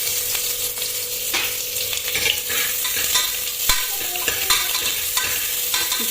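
Onion with curry leaves and mustard seeds frying in hot oil for an egg curry, loudly sizzling while a spoon stirs and scrapes through it, with repeated clinks against the pan.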